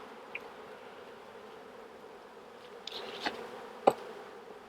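Honey bees buzz around an open hive during a check of four colonies, a steady close hum with a few brief sharp handling knocks and scrapes near the end.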